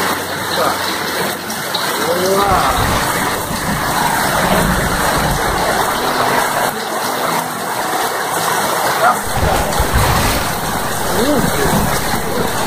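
Steady rain hisses and patters outside, with an engine-like hum underneath and a voice briefly exclaiming close by.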